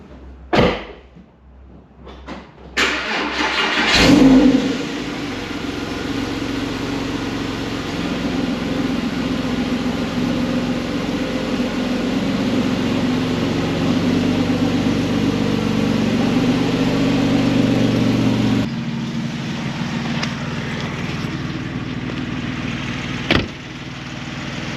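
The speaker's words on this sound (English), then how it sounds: "Cold start." A Porsche 997 engine cold-starts with a sharp rising burst, then idles steadily and loudly at a high cold-start speed for about fifteen seconds before the sound drops noticeably lower, with no talking.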